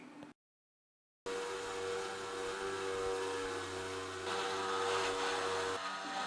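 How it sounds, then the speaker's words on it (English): A vehicle winch winds its cable back onto the drum under tension, giving a steady whirring motor drone with a mechanical hum throughout. The sound starts after a brief silent gap and runs loud and close without speech. "Then wind up your winch cable whilst maintaining tension and moving slowly from side to side"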